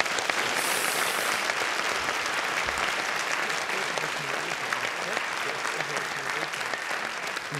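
Sustained applause from a lecture audience welcoming Professor Agostini, a dense, even wash of clapping that fills the whole stretch without a pause.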